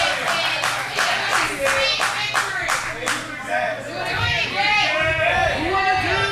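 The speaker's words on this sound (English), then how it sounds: "The crowd reacting to that." Wrestling show crowd clapping steadily in rhythmic bursts, with chatter, whistles and shouts rising through the applause, loud and close throughout.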